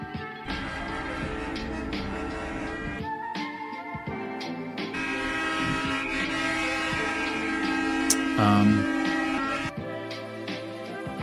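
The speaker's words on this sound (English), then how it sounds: "You got a 5-minute video of honking horns with no actual reporting." Horns honk repeatedly over a busy street scene with rumbling traffic, some blasts long and sustained, others short, loud and close, with no talk.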